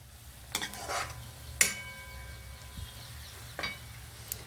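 Tomato pieces go into a hot pan of Chukka Kura tomato curry with a few spaced clinks and scrapes of a metal spoon over a faint, steady sizzle.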